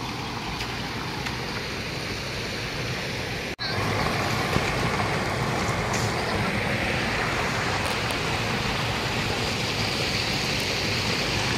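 Steady rushing water at a river, loud and continuous like a waterfall or fast stream nearby, with a sharp click partway through.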